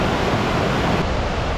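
Water from a mountain stream in a Veneto valley rushes steadily past, a dense, continuous broadband roar heard close and unbroken throughout, with no voices.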